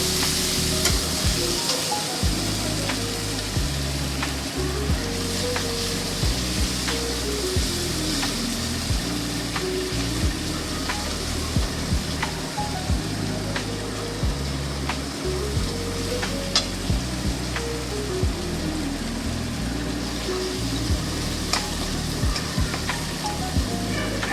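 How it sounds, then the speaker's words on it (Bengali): Spice paste is stirred and fried in a pan for a fish-and-poppy-seed dish, giving a loud, dense, unbroken sizzle with faint scraping throughout while music plays underneath. "ভালো করে মশলাটাকে এবার আমি নেড়ে নেড়ে মশলাটাকে ভালো করে কষিয়ে নেবো"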